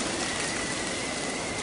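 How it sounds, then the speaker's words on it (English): Steady rain falls in a dense, even hiss with no breaks and no voices, close and fairly loud throughout. "They could hear the rain and they were glad to be dry and comfortable."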